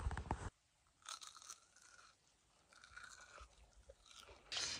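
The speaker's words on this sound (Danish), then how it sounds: "Jeg spiser chips." Potato chips being crunched and chewed up close, a loud burst of crunching at the start, then quieter chewing and further crunches, ending with another sharp crunch.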